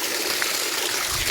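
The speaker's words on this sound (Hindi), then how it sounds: "टंकी के बाहर से भी पानी निकल रहा है" Water gushing as it overflows from a rooftop water tank and its open taps, a loud, steady rushing and splashing that pours on continuously without pause.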